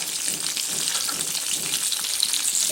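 Eggs frying in a pan, seasoned with salt and turmeric for a Bengali egg posto dish, giving a steady, close, even sizzle with fine crackling throughout and no talk.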